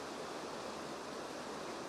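River water rushes near the Fairy Bridge on the Isle of Man, a continuous broadband wash of flowing stream, fairly faint and steady with no voices over it.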